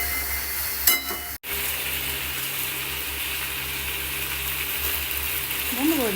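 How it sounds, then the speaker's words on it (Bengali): Onions and potatoes fry in a pan, a steady close hiss of sizzling oil broken early by a sharp clatter and a brief scrape near the end. "এখন সমস্ত পেঁয়াজ আর যে আলুটা আছে সেটা এখন ভাজা ভাজা করতে দিয়ে দেবো"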